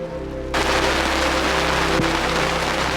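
Heavy thunderstorm rain pelts down around a sailboat moored to a buoy, a sudden dense roar of drops starting after a half-second and continuing loud and steady over a low engine-like hum.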